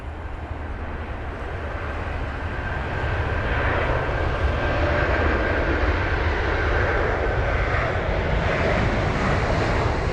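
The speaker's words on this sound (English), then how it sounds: "It's VS 133 for this Airbus A330-300 heading to Antigua." Virgin Atlantic Airbus A330-300 departing London Heathrow in wet weather, a broad steady engine roar that swells louder partway through and holds, with a thin whine above it and no talk.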